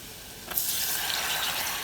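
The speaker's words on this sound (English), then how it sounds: "now we cook and stir until thickened and bubbly" A milk, flour and cheese sauce with Worcestershire is stirred in a pan as it cooks, giving a soft continuous scraping and gentle sizzle that starts after a brief quiet moment and holds steady, close by and alone.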